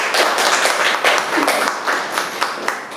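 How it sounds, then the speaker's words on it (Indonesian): An audience claps in a steady patter of many hands, moderately loud and close, with a faint voice briefly audible underneath. "Tepuk tangan bagi juga."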